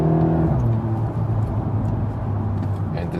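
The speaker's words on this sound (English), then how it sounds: "this Akrapovic optional exhaust, definitely also giving us some sounds note" A VW T-Roc R with an optional Akrapovic exhaust and 7-speed DSG pulls hard, its engine note rising and shifting in clear harmonic steps from inside the cabin, steady and fairly loud.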